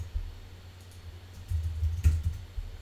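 Soft, scattered keystrokes on a computer keyboard tap close by, sparse at first and then coming in quicker clusters, with one louder clack.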